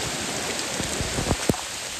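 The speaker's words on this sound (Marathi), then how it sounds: "भरपूर पाऊस आहे, भरपूर" Heavy monsoon rain falling during a trek up Mahuli fort, a dense continuous hiss of drops with a few louder close splashes, with no voices.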